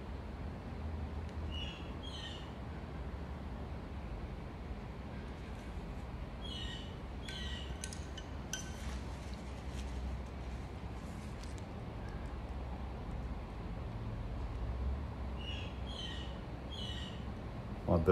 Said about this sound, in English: My bird going crazy in the background.